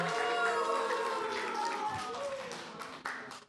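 An audience claps and cheers at a televised school competition, a steady loud wash of applause that thins and tapers toward the end, with a presenter's voice over it.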